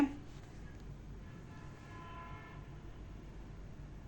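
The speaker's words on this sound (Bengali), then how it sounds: "তো ট্রেন কিন্তু চলছে আর আমি আপনাদের সাথে কথা বলছি" A moving passenger train heard from on board gives a steady, quiet low rumble, with a faint horn sounding in the distance partway through.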